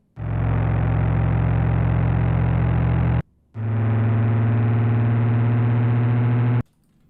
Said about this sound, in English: Driving, so car sounds.